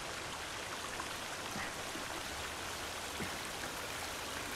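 Continuous hiss of water streaming through a cave in the video game The Forest, a dense, even roar close by, with faint splashy flickers and no talking.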